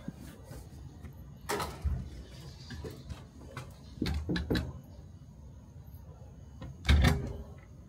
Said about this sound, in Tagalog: Nakalock yung pinto eh. Buksan na natin.